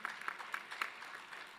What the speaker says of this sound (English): A big round of applause for Mr. Mkiba.